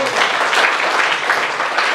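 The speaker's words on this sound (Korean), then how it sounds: "우리 주님께 영광의 박수를 드리겠습니다." Dense, steady applause from a church congregation at Daegu Yongsan Church, a loud, continuous wash of many hands clapping throughout, with voices mixed in underneath.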